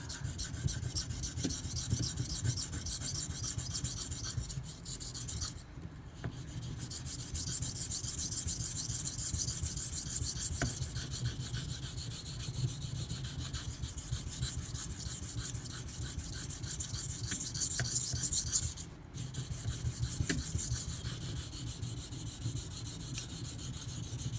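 Steady rhythmic rasping of a BRK Northstar 3B steel knife edge being sharpened on a stone, close and continuous strokes with two brief pauses.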